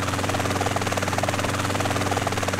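A helicopter in GTA: San Andreas flies with a steady, continuous rotor drone and engine buzz, loud and constant throughout with no talk over it.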